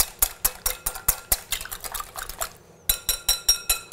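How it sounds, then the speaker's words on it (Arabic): A yogurt sauce of lemon juice, olive oil, garlic, salt and black pepper is whisked in a bowl, a quick, steady run of close metallic clinks and scrapes that pauses briefly, then resumes. "رح نخلط هذه المواد كلها سوا."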